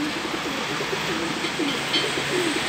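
Pigeons coo softly on a balcony, a steady run of low murmuring calls repeating close by over a constant background hiss.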